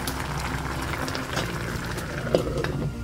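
A pot of coconut stew with squash shoots bubbles at a low simmer, with soft gurgles and pops close by and one slightly louder burble near the end.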